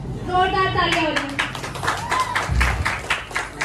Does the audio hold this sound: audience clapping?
yes